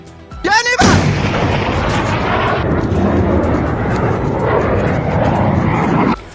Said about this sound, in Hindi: इजराइल के एक और इलाके पेटा टिकवा में जब धमाके हुए मिसाइलों से